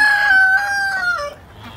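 A rooster crows loud and close in a chicken tractor shared by chickens and ducks, one drawn-out call that fades away near the end with no talk.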